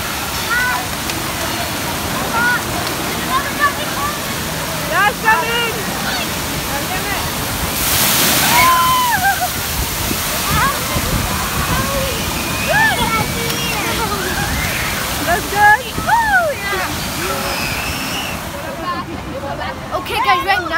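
Water crashes and splashes from a big tipping bucket at a Six Flags waterpark, a steady loud rush with a heavier surge midway, while people talk and shout nearby.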